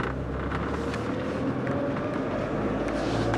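A 1997 Geo Metro driving, heard from inside the car: a steady, loud low engine and road rumble with wind noise, continuous and unchanging throughout.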